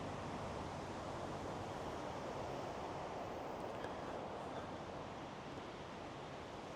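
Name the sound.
strong wind gusting against the microphone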